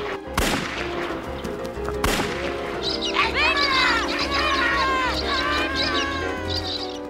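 Two sharp gunshots ring out close by from a rifle, the first near the start and the second about two seconds later, followed by chirping birds and a low engine hum in the background.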